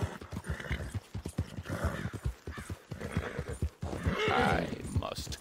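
Rhythmic clip-clop of horse hooves with a whinny in Red Dead Redemption 2, mixed with game sound effects and speech over much of it.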